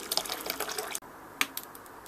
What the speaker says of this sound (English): Next up, we add 9 litres of boiled and cooled water to the mash tun.